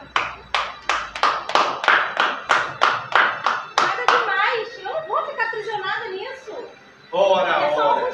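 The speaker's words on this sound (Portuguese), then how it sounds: "Quantos aqui gostaria de aplaudir a Marta?" An audience claps in a steady rhythmic beat during a church theatre play, about a dozen loud, evenly spaced claps, then clapping breaks up while a voice talks and laughs over it.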